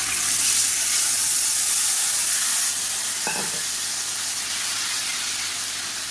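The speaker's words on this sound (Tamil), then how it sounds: "இந்த புளி தண்ணியை சேர்த்துக்கலாம்" Tamarind water added to spices frying in a pan for temple-style puliyodharai, giving a loud, dense, steady hiss of sizzling liquid and steam that eases slightly midway, with a faint utensil knock.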